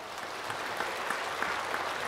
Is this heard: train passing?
no